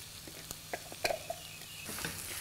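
Soft sizzling of minced chicken frying in a pan with scattered clicks and scrapes of stirring, close and quiet, with no talking.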